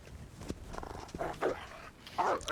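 A wolf in the survival video game The Long Dark barking and snarling as it comes at the player, a series of rough growls and barks over game ambience with no talk.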